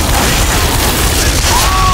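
An explosion in the Team Fortress 2 video game gives a short, dense, loud blast over busy game noise, with a brief whistling tone near the end and a voice faintly in the mix.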